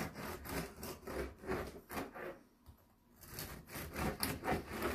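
A serrated knife saws through a loaf of almond biscotti in repeated back-and-forth strokes, a close dry rasping with a brief lull midway before the cutting resumes.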